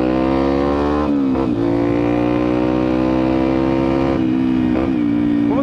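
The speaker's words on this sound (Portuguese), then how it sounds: "eu achei muito maneiro o ronco desse escape" A Yamaha XTZ 125 motorcycle with an aftermarket exhaust idles loudly with a deep, throaty exhaust rumble, briefly revving a couple of times before settling back.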